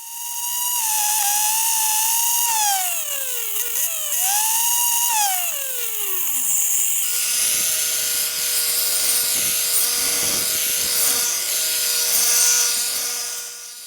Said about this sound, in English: I mounted a circular saw on the end of my high-speed grinder